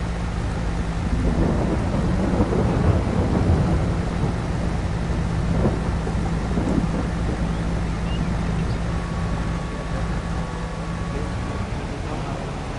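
Steady rain and rolling thunder from a stormy weather scene in Farming Simulator 22, a continuous loud wash of rainfall with low rumbling swells and a faint engine-like hum underneath, no voices.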